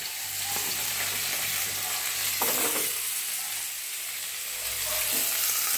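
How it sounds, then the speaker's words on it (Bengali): Potato pieces frying in a pan give a steady, close sizzle that crackles throughout, with occasional soft stirring scrapes and no voices. "দেখুন আলুটা একটু ভেজে নেব।"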